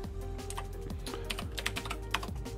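Quick clicking keystrokes on a computer keyboard type out a chat command, soft and close, in an irregular run over a steady low background hum, with no voices.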